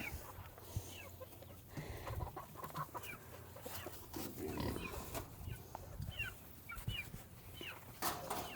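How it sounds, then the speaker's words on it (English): Homestead chickens cluck and squawk in scattered bursts amid farmyard rustling and other animal noises, faint and somewhat distant, with a few low voice sounds mixed in. "Chickens do whatever they want."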